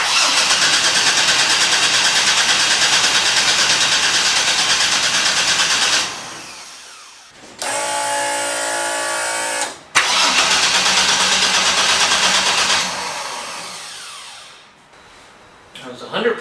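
A Vortec 4200 engine fitted to a Ford Fairmont Futura cranks loudly and without a break for about six seconds, goes quiet briefly, then cranks hard again in two more long bursts, close to the microphone.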